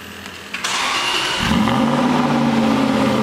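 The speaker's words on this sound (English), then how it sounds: "Get a cold start up on the Vantage." An Aston Martin Vantage fires up from cold: a short starter whir, then the engine catches with a loud bark and settles into a high, steady fast idle, close and alone.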